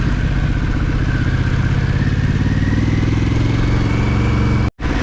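An adventure motorcycle descends a dirt road in second gear, its engine droning steadily and loudly up close with constant rumble and wind, cutting out briefly near the end.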